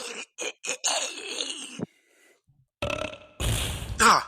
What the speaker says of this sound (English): burped in your mouth